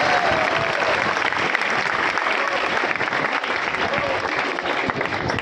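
Loud, dense applause from an audience at an award ceremony fills the whole stretch, sustained and even without breaks.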